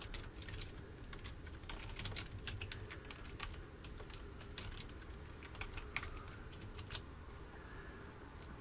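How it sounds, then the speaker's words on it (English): Steady keyboard typing on a computer, a continuous run of fast keystrokes at close range with no voices. "I'm going to type my question."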